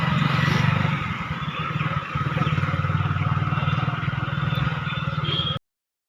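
A motorcycle carrying two riders heads along a road, its engine droning steadily and close with a brief dip, then cutting off abruptly near the end.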